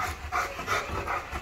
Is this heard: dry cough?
no